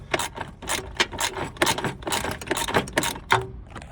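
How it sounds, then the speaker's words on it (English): A small 13mm bolt is worked loose on a Lincoln MKS 3.7L AWD during starter removal. It gives off a close run of quick, uneven ratcheting clicks and metallic scrapes with no pauses between them. "I'm getting that little bolt out."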